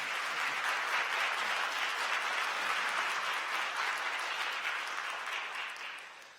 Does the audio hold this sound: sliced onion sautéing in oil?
no